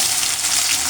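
Onions hitting hot oil with frying garlic in a pan give a loud, steady, hissing sizzle, close and continuous with no voices.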